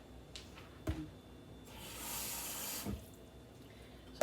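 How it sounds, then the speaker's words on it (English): Water runs from a tap into a cooking pot of lean ground meat, a brief splashing stream lasting about a second between a few clunks and handling noises. "So since I'm putting more water in it,"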